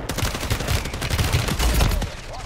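Dense rapid gunfire from a video game shootout, a steady loud fusillade of overlapping shots with low booms running through the whole stretch, no voices over it.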